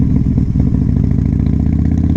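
A Harley-Davidson Dyna Wide Glide motorcycle engine runs loud and close, a deep, loping rumble with uneven pulsing beats and slight clatter.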